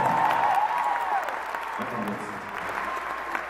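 Audience clapping fills a theatre in Curitiba after a dance performance, brisk and continuous, with voices calling out over it.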